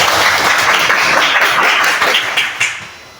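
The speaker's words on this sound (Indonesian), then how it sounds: "Tepuk tangan semuanya." A classroom of students claps together, a dense burst of applause at close range that fades out over about three seconds.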